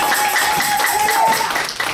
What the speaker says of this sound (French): Applaudissez encore plus fort pour les rois de l'eau.